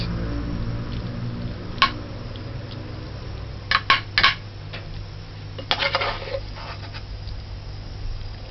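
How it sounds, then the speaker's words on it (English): Mince and tomato sauce spooned into an 8 by 12 lasagna baking dish: scattered sharp clinks and taps of a spoon against the dish, a few close knocks and scrapes over a low steady hum, with no talking. "Now we're going to add the mince and the tomato sauce."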